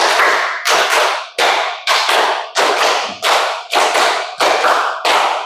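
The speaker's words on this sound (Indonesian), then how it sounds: "Tepuk 1, tepuk 2, tepuk 3, tepuk 4, tepuk 5." Students in a classroom clap hands in unison on a count, eight or nine loud, sharp group claps in a steady rhythm, each burst ringing briefly before the next, with no talking.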